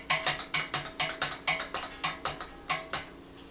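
Pumping an auto-siphon inside a glass wine carboy while racking Eclipse Nocturnal kit wine gives a steady series of about a dozen close, regular plastic clicks and rattles, each stroke sharp and evenly paced with no talking.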